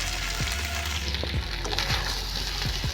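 Spices for a bhindi and potato curry sizzle and fry in a pan while a utensil stirs them, a steady close crackling hiss broken by repeated scraping strokes.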